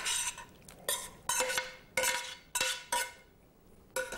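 Bucatini pasta tossed with sweet red pepper sauce: a run of clinking, scraping utensil strokes against a bowl or pan, several sharp bursts in an uneven rhythm, close and fairly loud with no talk.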